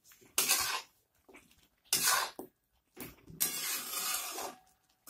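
Chicken jeeravan ingredients are stirred in a pan without oil, with three or four bursts of scraping and clattering from the spoon against the pan and quiet gaps between them.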